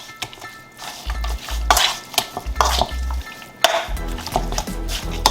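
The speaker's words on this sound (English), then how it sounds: "What I do now is just to mix this up" Salted salmon pieces are mixed by hand in a bowl, giving wet squishing and slapping bursts with occasional clinks of dishware, loud and close, in uneven strokes with short pauses; no talking.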